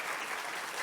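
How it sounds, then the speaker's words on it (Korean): Church congregation applauding together, a dense, steady wash of clapping filling the short moment at moderate volume with no speech over it. "같이 한번 박수 한번 격려해 주시기 바랍니다."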